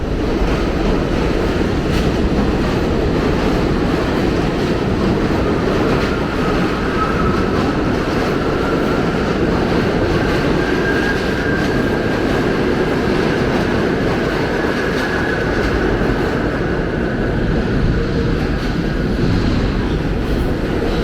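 A New York subway F train rumbles past continuously with a loud, broad roar and rattle, a faint high squeal rising briefly in the middle.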